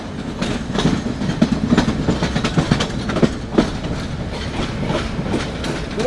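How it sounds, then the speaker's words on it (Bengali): The Sonar Bangla Express train rumbles along the rails from Dhaka toward Chittagong, taking a curve, with steady clickety-clack beats, loud and close, a continuous rolling drone from start to finish. "দেখা যাচ্ছে আমাদের ট্রেন সুন্দর একটি কার্ভের সাথে তার যাত্রা শুরু করলো"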